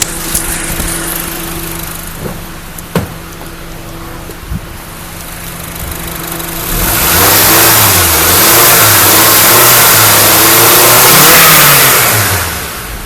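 A 2009 Honda Accord 2.0 engine idles quietly, then revs up strongly and holds a loud, rising and falling roar for several seconds before easing off.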